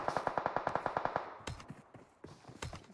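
Rapid automatic gunfire in PUBG Mobile rattles off in an even burst of about a dozen rounds, followed by scattered heavier shots and impacts, loud and close with no talking.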